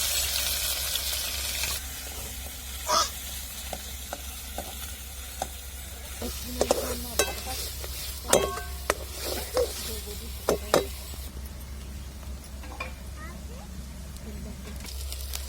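Steady hissing sizzle of ground gravy paste frying in oil for a potato curry, punctuated by scattered clicks and scraping taps from stirring, with a voice speaking intermittently.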